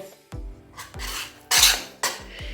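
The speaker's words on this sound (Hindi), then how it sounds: "अच्छे से भून रहा है, बेसन है, सूजी है, आटा है" Gram flour, semolina and wheat flour are roasted in a pan, with a spatula rasping and scraping the metal in several rhythmic strokes, close and fairly loud.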